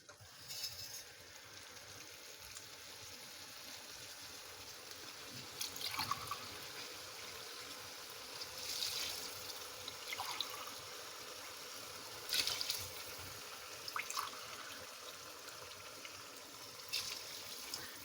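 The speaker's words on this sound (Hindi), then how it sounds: "अब मैं इसमें पानी डालूँगी।" Water being poured into a pot of rice and mixed vegetables for pulao, heard as soft, quiet splashing and trickling in a few brief bursts over a low background hum.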